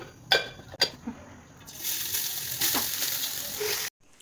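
Ghee and colostrum (chik) hit a hot pan, a couple of sharp clanks first, then a strong, sustained sizzle close by that cuts off abruptly at the end.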